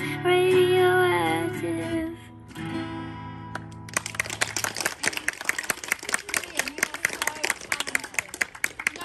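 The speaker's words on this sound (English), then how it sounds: "Let's give him another clap" An audience claps and applauds after a live cover of a song, beginning about four seconds in as a steady, crowded clatter of hands that follows the end of the music and keeps going to the end.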